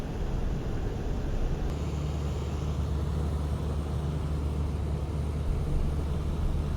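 Ercoupe light airplane flying upwind in the traffic pattern for runway 25 at Nevada County Airport, a steady, loud low engine drone and broadband cabin rumble filling the whole stretch without pause.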